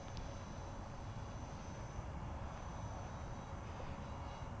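Electric motor of an RC model Airbus A340 airliner at half throttle, a steady whirring drone with a faint high whine, unbroken throughout.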